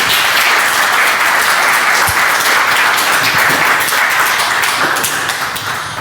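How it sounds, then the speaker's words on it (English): At a software testing talk, an audience gives presenters a loud, continuous round of applause, dense clapping holding steady throughout with a few distinct taps and thumps, tapering only slightly at the end. "Give them a warm applause."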